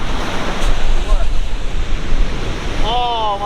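Water rushes and surges steadily where a dug river channel has been connected to the sea, a loud broadband roar with wind buffeting the microphone and a voice briefly rising near the end.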